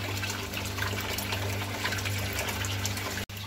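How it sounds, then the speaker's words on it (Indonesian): Water gushes steadily as a koi fish tank is drained and refilled with fresh water, with a pump-like hum beneath the continuous close flow that cuts out for a split second near the end. "ini airnya sudah bersih, sudah saya kuras dan saya ganti dengan air baru"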